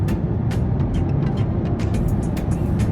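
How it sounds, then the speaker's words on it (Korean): A Nissan Maxima sport sedan's V6 gasoline engine, rated at over 300 horsepower, rumbles steadily while driving, a low continuous drone with light tyre and road noise and occasional soft clicks. "V6 가솔린 엔진입니다."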